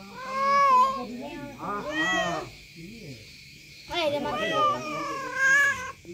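A cat yowls in several long, drawn-out meows with short gaps between them, close and fairly loud.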